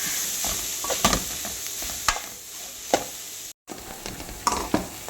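Cabbage, carrot and beetroot thoran masala being stirred in a pan, steady soft sizzling broken by several sharp scraping and clanking strokes of a spoon against the pan, with no talking.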